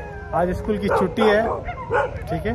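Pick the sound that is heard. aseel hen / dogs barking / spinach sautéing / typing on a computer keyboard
dogs barking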